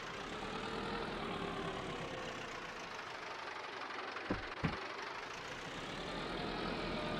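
A vehicle engine in Farming Simulator 22 runs at a steady, rough idle with a dense mechanical rumble, broken by a couple of brief clunks midway.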